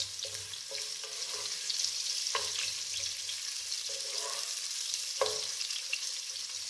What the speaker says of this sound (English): add more onions to your pan